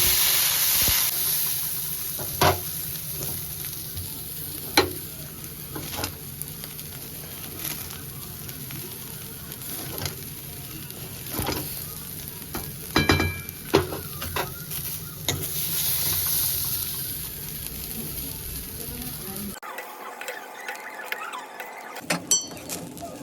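Baby corn and green peas frying together in a pan for fried rice, a long soft sizzle with occasional stirring clicks and scrapes, ending in a brief quieter stretch.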